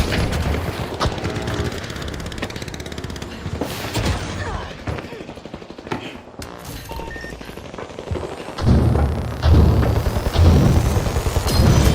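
Frag grenade blast and gunfire in The Finals arena match: dense bursts of rapid shots and crashing impacts, with heavy booming explosions surging louder toward the end, all close and loud.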